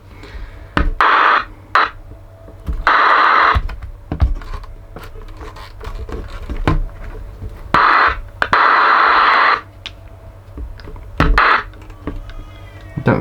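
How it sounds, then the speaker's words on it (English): Static hiss from a vintage CB radio with a loose connection, heard as steady close noise broken by crackling bursts and clicks that cut in and out irregularly. "I've got some noise. That is a good sign."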